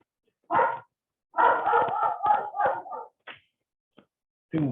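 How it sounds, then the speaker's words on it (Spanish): A dog barks several times in quick, irregular bursts nearby, with short pauses between them and silence around. "tengo un perro que ladra como no tiene que ladrar"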